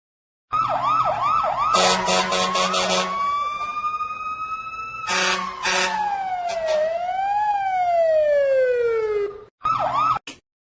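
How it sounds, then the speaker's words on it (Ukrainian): A fire engine siren wails loudly and up close, alternating rapid warbling yelps with long rising and falling sweeps, cutting off briefly before a final short burst of yelping. "це пожежна машина"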